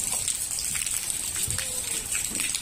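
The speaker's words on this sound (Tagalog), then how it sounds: "It's raining." Steady patter of rain falling on a surface, with scattered drips and a soft continuous hiss, at a horse riding practice; no voices.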